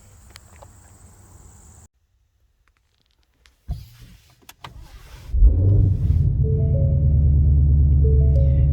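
A 2020 Ford Shelby GT500 with a ported blower, upgraded pulley and dyno tune: quiet rustling and a few clicks and thumps, then the engine fires up loud and settles into a steady, deep, close idle rumble.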